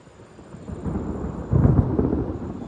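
Outdoor thunderstorm at an arrowhead-hunting site, with rain hissing steadily while a deep roll of thunder swells and grows louder midway, no voices present.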